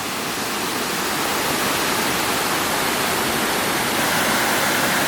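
A long river waterfall spilling across a natural river swimming spot at Praia Fluvial Vimieiro in Portugal, heard close up as a loud, dense, unbroken rush of water that holds steady throughout, with no voices.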